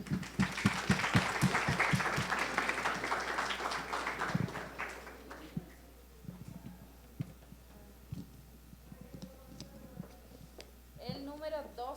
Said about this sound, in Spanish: Un aplauso igual.